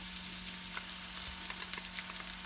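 Eggplant and peppers fry steadily in a pan with a low, even sizzle and small crackling pops, close up and with no voices over it.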